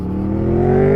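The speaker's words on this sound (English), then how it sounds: "I'm rolling on and off the throttle, and there's that jerkiness" A 2017 Suzuki GSX-S750 motorcycle at slow speed as the throttle is rolled on, its engine note climbing steadily in pitch and loudness over about a second, close and unaccompanied by speech.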